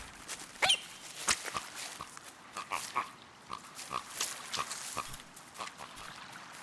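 A pig grunts in the video game The Last Campfire: a series of short, quiet, irregular grunts and snorts, spaced roughly half a second to a second apart over soft background ambience, with no talking.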